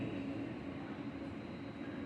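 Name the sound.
Caltrain northbound local commuter train to San Francisco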